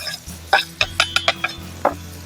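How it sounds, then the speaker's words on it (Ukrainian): Spoon knocking and clinking against a pot while chili con carne with beans and hot pepper is stirred, a string of about seven sharp, close taps in a quick irregular rhythm over a low steady hum. "Це все діло перемішуємо, хай смаки розходяться."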